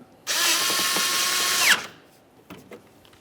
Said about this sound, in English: Use one of your 10mm headed bolts and insert it. Snug it up.